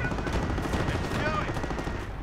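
Infantry gunfire in the Company of Heroes video game forms a dense, steady rattle of rifle and machine-gun shots at moderate distance, running without a break through the clip beneath game noise.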